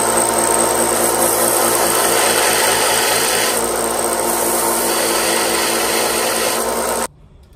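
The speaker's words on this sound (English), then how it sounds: "Now we got to sand that smooth. and sand it down some" A power sander smoothing a repaired knife handle, a loud, steady, close grinding whir that holds for about seven seconds before cutting off abruptly.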